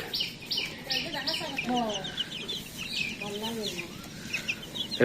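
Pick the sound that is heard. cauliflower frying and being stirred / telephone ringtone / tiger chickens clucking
tiger chickens clucking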